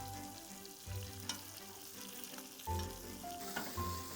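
Steak sears and is basted in a pan, a continuous sizzle with scraping and spoon clinks as fat is spooned over, swelling in louder bursts, with no one speaking.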